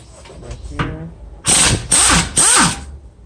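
A ratchet works loose the 17 mm front brake caliper bolts on a Hyundai Santa Fe, with a few soft clicks followed by three loud, close bursts of rapid ratcheting.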